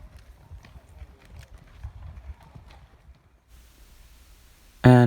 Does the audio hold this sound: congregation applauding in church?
no